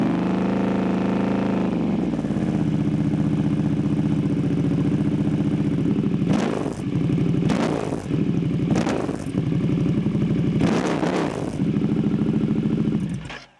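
A Harley-Davidson Pan America motorcycle engine with an aftermarket upgrade idles steadily up close, then gets a series of sharp, loud throttle blips before settling back to idle, with no talking.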